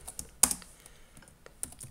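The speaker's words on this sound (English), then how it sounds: "I'm gonna type" Keystrokes on a computer keyboard as a command is entered while setting up Ubuntu Server, a sparse run of separate close clicks with one sharper strike near the start, alone in a quiet room.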